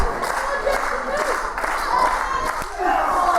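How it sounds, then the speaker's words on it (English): Crowd at a PWU professional wrestling show cheering, shouting and clapping at a steady roar, heard beneath a commentator talking. "Crowd willing these two men to get to their feet."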